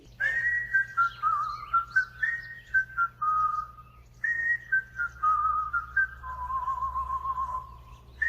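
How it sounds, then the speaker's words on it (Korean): Someone whistles a wandering melody in short phrases, close and clear, with a low steady hum underneath. "누워 태평스레 휘파람을 불고 있었지"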